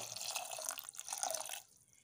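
Water pours and splashes into a pressure cooker holding chana dal for a moment, a close watery gush that stops abruptly, leaving near quiet.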